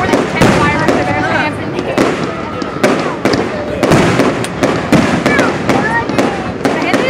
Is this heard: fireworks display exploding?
yes